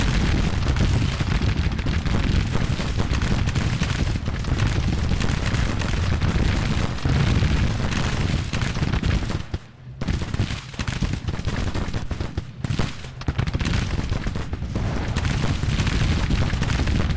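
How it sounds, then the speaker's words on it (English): Dense, sustained volleys of Whitworth rifle fire from a Grand Tactician Civil War battle, loud and continuous with overlapping shots crackling throughout, briefly thinning near the middle before the barrage resumes. "These Whitworth rifles are awesome."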